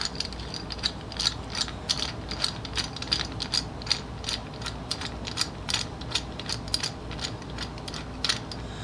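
A camera mount clamp is cranked tight onto a table, giving a steady run of quick ratcheting clicks, close and fairly quiet, with no talk.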